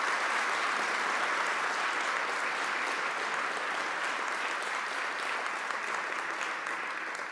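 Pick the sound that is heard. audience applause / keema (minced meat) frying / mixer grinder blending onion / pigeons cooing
audience applause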